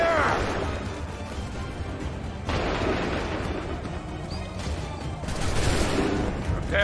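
Musket volleys in Assassin's Creed III's Lexington and Concord battle, dense overlapping crackling shots rolling in a steady barrage, loud and close with no speech over them.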